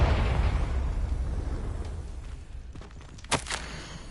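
A Confringo spell from the Hogwarts Legacy video game goes off as a heavy explosive boom that decays into rumble, followed by a short sharp burst near the end.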